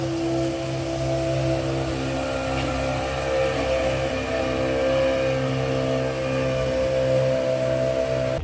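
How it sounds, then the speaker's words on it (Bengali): Motorboat running on a lake at Johan Dream Valley Park, a steady droning engine hum with strong tonal harmonics, continuous and fairly close, no talking. "স্পিরিট বোট চলছে।"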